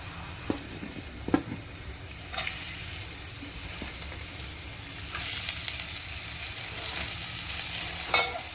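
Onion, green chilli and garlic fry in hot oil with mustard seeds, urad dal and cumin for a radish greens poriyal, giving a steady sizzle with a few stirring scrapes and louder bursts as ingredients go in.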